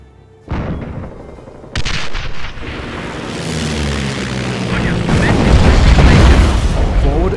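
Artillery shells from a 25-pounder land in a Company of Heroes battle, with sharp booms hitting at about 0.5 and 1.8 seconds, then a dense, building rumble of battle noise and distant fire. Speech-like game sounds mix in.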